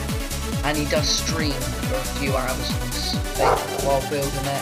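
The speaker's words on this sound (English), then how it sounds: "just my dog for some reason" A dog barks repeatedly in the background, a string of sharp woofs and yips, while someone talks steadily over it in the foreground.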